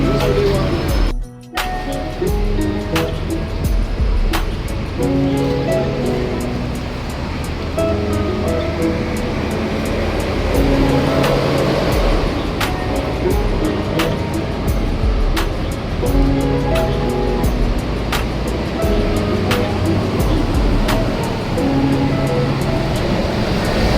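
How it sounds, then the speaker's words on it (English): Busy street traffic in Hong Kong rumbles steadily and loudly, vehicles passing close by near a bus station, with a continuous mix of engines and road noise and people talking over it. "Streets seem to be so busy"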